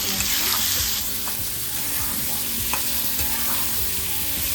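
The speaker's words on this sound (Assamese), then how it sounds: "ধুনীয়াকৈ ফ্ৰাই হৈ গৈছে তেলত" Squash fries in hot oil with spices, salt, turmeric, cumin, coriander, chili powder and chopped onion, giving a loud, continuous close sizzle with occasional stirring clicks and scrapes and no talking.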